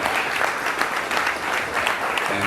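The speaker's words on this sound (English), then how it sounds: "y'all clap it up" An audience claps for a basketball coach at a fireside chat, a short burst of dense, fairly loud applause that swells and dips slightly without any voices.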